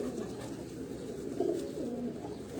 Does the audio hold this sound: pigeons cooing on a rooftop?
yes